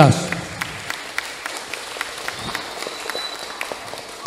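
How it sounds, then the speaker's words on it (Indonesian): At a madrasah ibtidaiyah send-off ceremony for grade six pupils, a few people clap in sparse, scattered, fairly regular claps, light and thin rather than a full ovation. "Mari kita kasih aplaus tepuk tangan untuk Min 13"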